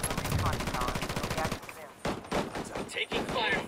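Rapid automatic gunfire from the military shooter game Ghost Recon Wildlands rattles in bursts, a dense stream of shots followed by scattered single cracks and short volleys, loud and close in a firefight.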